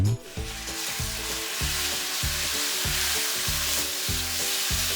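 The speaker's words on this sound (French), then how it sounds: "bien faire monter en température afin d'y saisir le bœuf une dizaine de secondes" Beef strips searing in hot oil in a sauté pan, a loud steady sizzle and crackle filling the whole stretch with repeated stirring or tossing scrapes, no voices.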